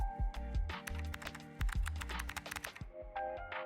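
Mechanical keyboard typing, close and crisp, with rapid clacking keystrokes in uneven bursts and short pauses between runs.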